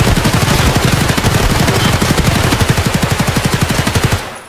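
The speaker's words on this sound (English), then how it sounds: "Are you shooting right now?" In a video game, automatic gunfire rattles out in a rapid, loud, continuous burst of evenly spaced shots for about four seconds, then cuts off. No one talks over it.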